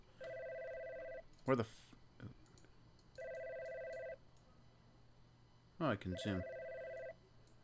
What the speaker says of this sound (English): Do I not have a secretary to answer my phone?